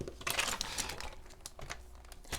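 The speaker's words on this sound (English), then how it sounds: "I'm gonna just cut this bottom part off" Scissors cut through the bottom of a paper sheet for a handmade micro notes planner with pockets, giving a few close crisp snips and crinkles over about two seconds, with no talking.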